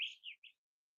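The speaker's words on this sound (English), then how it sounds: "The birds are singing to me." Birds chirping outdoors on a morning, a few quick bright tweets in about half a second, fairly close and clear, then silence.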